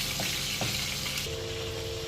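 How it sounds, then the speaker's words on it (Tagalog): Galunggong fish sizzles as it fries in a pan of oil, a continuous loud hiss and crackle with a few faint clinks. "Ito yung galunggong na lulutuin ko. Piprituhin ko din."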